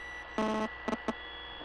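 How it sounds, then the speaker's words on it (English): Buzzing in headphones within the game The Suicide of Rachel Foster: one harsh electronic buzz of about a third of a second, then two shorter buzz bursts, over a quiet hum. "there's like a buzzing noise"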